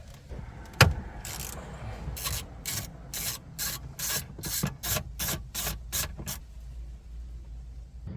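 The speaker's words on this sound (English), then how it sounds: "I'm using a magnetic socket so that I don't lose this bolt once it's removed" A magnetic socket works a bolt loose inside a Lexus RX350 center console, giving a rapid, evenly spaced series of close ratcheting clicks after a sharp knock.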